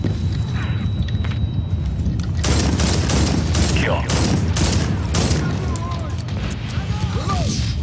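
Constant video game gunfire with heavy booms and a grenade explosion in a Medal of Honor firefight, loud and dense throughout, with shouted voices mixed in.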